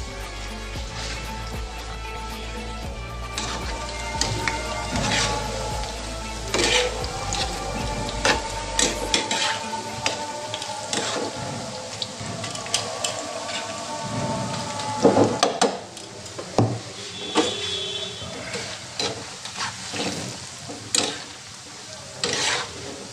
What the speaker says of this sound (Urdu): اس طریقے نال پکوڑے سارے فرائی کر گئے سو